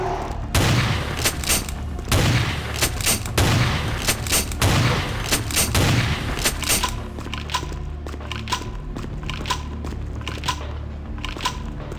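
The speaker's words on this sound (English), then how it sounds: "Shotgun definitely works better" Shotgun blasts in the game Vampire: The Masquerade – Bloodlines, with the Final Nights mod: a rapid series of loud, sharp reports, closely spaced at first, then lighter clicking shots and ricochets toward the end.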